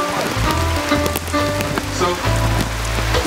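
Rain pours down in Jamaica as a constant close wash, heard under a groove-based music track with a steady bass line.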